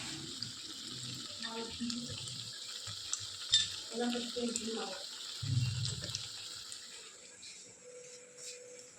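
Steady sizzling of food frying in a pan, with brief voices and some clattering in the background.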